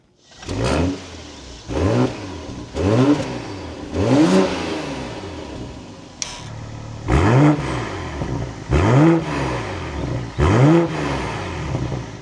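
A 2026 BMW M440i Gran Coupe engine fires up, then gives a series of sharp throttle blips, each rev rising and falling quickly with brief idle between, heard up close.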